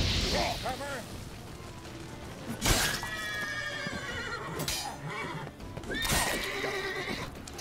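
A horse in the video game Witcher 3 neighs repeatedly, loud whinnies mixed with game effects and a voice talking underneath.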